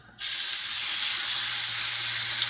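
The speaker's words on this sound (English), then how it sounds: "When you first touch it, and you don't hear that sizzle, then do not lay it in." Ribeye steak hits a hot pan and bursts into a loud, steady sizzle that hisses continuously up close, with no one talking.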